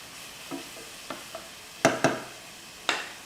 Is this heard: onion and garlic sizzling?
yes